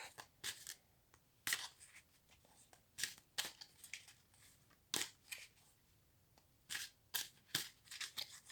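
Tarot cards being shuffled for a reading: repeated soft crisp bursts of riffling and flicking cards in uneven clusters, close but quiet, with a faint voice talking in the background.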